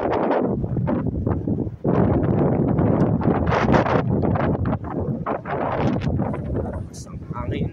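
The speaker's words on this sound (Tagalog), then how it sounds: "Malakas ng hangin." Strong wind on Jeju Island, South Korea, buffeting the microphone in loud, continuous gusts and rumbles, with a voice talking over it.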